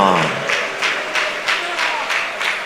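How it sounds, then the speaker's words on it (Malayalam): Church congregation clapping hands during a sermon, a steady rhythmic beat of about six claps under a faint preacher's voice. "ഒന്ന് കൈയടിച്ചോണ്ട് പറ"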